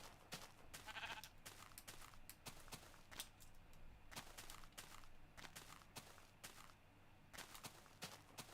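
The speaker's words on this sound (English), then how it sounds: "Sheep." Sheep in Minecraft bleat faintly amid a busy game soundscape of clicks and footsteps, a few soft bleats scattered through the steady background with no talking.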